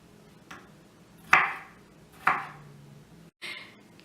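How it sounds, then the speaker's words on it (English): A knife chops vegetables on a cutting board for homemade salsa: three or four crisp, separate strikes, spaced roughly a second apart, close and clear in a quiet room. "I'm going to cut it long ways so that now each of these eighths is cut into 3 more pieces"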